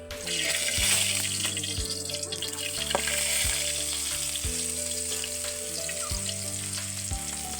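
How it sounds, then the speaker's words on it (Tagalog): Garlic, onion and chili sautéing in a pan, with a steady bright sizzle and a few sharp clinks of a utensil against the pan at regular intervals. "magigisa na tayo"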